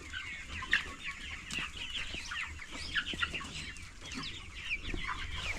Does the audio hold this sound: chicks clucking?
yes